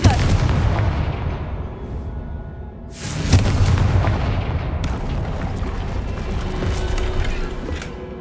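Confringo blasting spell explosions in the video game Hogwarts Legacy: sharp blasts at the start and again around three seconds, each trailing into a rumbling, crackling decay, loud and near, with no voices.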